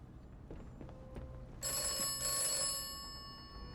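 An old-style telephone bell in the video game Atomfall starts ringing abruptly partway through, a bright continuous metallic trill over a quiet rumbling ambience, fading slightly toward the end.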